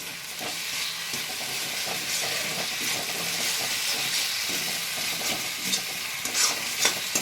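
Spice masala with Kashmiri red chilli powder and sugar stir-fried in a pan for banana flower kofta curry makes a continuous moderate sizzle, broken by scraping stirs and a few sharper crackles near the end, with no talking.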